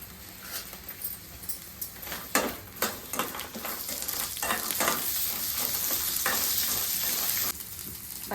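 Oil sizzles and crackles as coconut, green chillies and peanuts fry in a pan, broken by repeated scraping strokes of a spoon stirring, steady and close.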